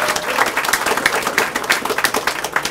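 A crowd at a King of the Dot rap battle event cheers and applauds for Flip Top, a steady, dense wash of clapping and shouts with no clear words, fairly loud and close throughout.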